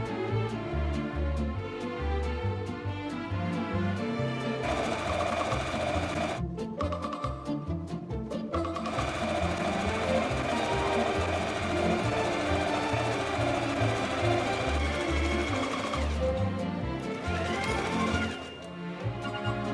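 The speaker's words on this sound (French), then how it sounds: "Puis piquez à 2 cm du bord." A sewing machine runs loud and steady close by, stitching 2 cm from the edge around the opening of a fishtail sleeping bag, with brief pauses before it resumes.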